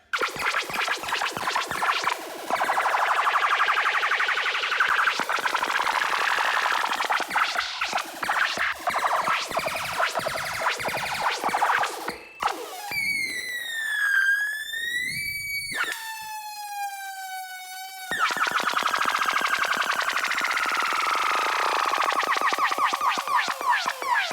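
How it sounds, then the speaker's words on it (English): Bubbly, glitchy Serum synth preset sounds with chirping, warbling sweeps that rise and fall like a siren, then settle into a fizzy buzzing texture. "really useful for making unique kind of bubbly beepy effects"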